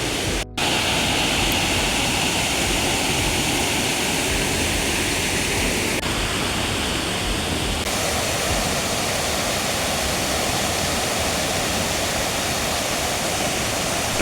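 Asupini Ella waterfall gives off a steady, loud, unbroken roar of falling water that fills the whole scene without pause, with no voices over it.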